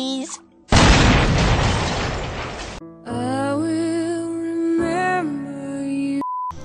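A video game explosion in Minecraft Pocket Edition bursts loudly as a broadband roar lasting about two seconds, followed by sustained tonal game music or sound effects with a short beep at the end.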